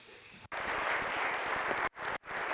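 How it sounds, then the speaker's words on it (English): Audience applause at a professional conference session, a continuous burst of many hands clapping, broken twice by abrupt cuts to near silence. "And a round of applause,"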